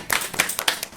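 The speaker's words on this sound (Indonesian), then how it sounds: "tepuk tangan untuk kita semua." A short burst of group hand clapping at the close of a community talk show about young artists, dense and lively with no speech over it.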